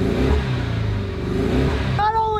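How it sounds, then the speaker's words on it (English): A car engine running rough and too rich, missing as it revs, produces a low uneven rumble that rises and dips near the mic, while someone talks over it, before a brief whine at the end. "It does start right up, but right off the bat when you rev it up, you can tell it's not right."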